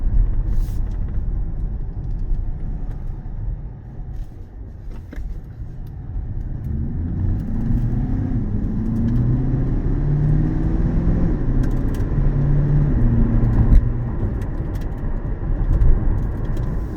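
A 2024 Chevrolet Corvette Stingray 2LT on a short drive, heard as a low, steady engine rumble and road drone from inside the car, rising slightly as it accelerates, with no talking.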